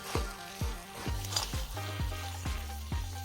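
Sugar being stirred into atta halwa cooking in ghee, heard as a series of soft, regular scraping strokes of the spoon against the pan, about two per second, with a faint sizzle underneath and no talk.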